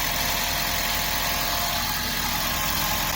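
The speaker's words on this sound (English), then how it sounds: "So you can hear there is a little bit of rattling going on. Of course, it's an old engine" Old car engine idling steadily with a light, continuous rattle, a dense, even mechanical drone heard up close with no voices.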